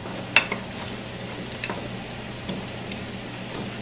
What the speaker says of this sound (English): I'm going to use a wooden spoon to just kind of cook this around